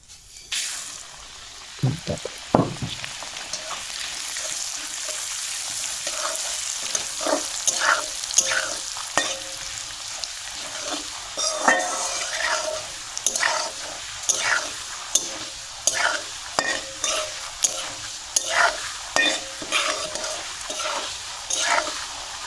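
Bottle gourd and mung dal fry in a pan while being stirred, a quiet sizzle broken by repeated scraping and clinking strokes of the spoon at an irregular pace, with no talking.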